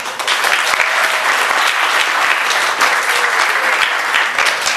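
Sustained audience applause at a club pie-cutting event in southern Corfu, a dense, steady wash of many hands clapping at close range for the full length without pause.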